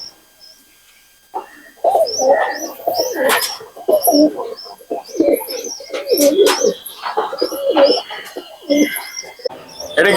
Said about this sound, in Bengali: এটা পাঞ্জাবি মালবাই পায়রা।